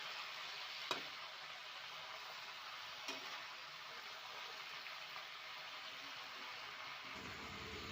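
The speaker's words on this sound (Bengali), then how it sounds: "আমি অনেকটা শাক একসাথে দিয়ে দিচ্ছি তো, সেই জন্য আস্তে আস্তে করে নাড়াচাড়া করে নেব" Malabar spinach cooks in a pan with a rohu fish head, a faint, even frying hiss running the whole time, with a couple of soft clicks from stirring.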